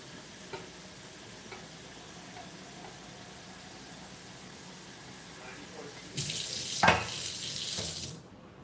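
Water runs from a kitchen tap into a kettle, a steady rushing hiss that starts abruptly after quiet room tone and stops a couple of seconds later.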